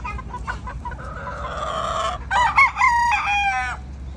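Young local banded roosters (stags) crowing on a farm, two clear calls in a row, the second longer and louder, close by against low background noise with no talk.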